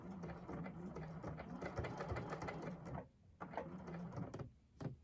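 A sewing machine stitches the side seam of a Tamarack jacket in batik canvas and batik cotton. Close, rapid mechanical whirring runs in bursts, with a brief pause near the middle before it starts again.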